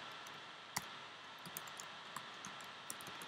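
A few sharp computer mouse clicks while a quiz answer is selected in an online classroom tool, one distinct click early then softer scattered clicks over faint room hiss, close and quiet, no talking.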